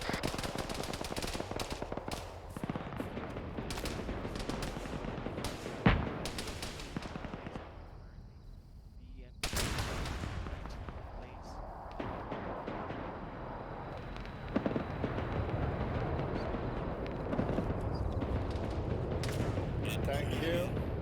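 Gunfire from a nearby tank firing on opposition forces from behind a hill, heard as repeated loud booming reports and bursts over continuous background noise, with a brief quieter lull partway through.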